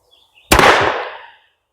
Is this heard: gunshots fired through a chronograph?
yes